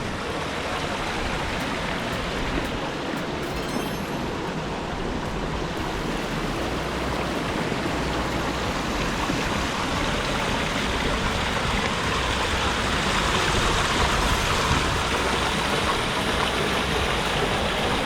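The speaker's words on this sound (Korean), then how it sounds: "깨끗한 계곡물 흐르는 것을" Constant rushing of a mountain valley stream flowing over rocks near Jirisan, a dense, even wash of water sound filling the whole stretch without any voices.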